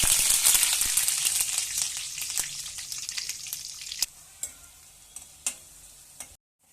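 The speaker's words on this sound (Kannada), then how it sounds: "ಈಗ ಸಾಸಿವೆ ಪಟ ಅಂತ ಸಿಡಿಬೇಕು." Mustard seeds and curry leaves splutter in hot oil for a street-style chicken liver rice, a dense crackling sizzle that gradually thins into scattered sharp pops before cutting off.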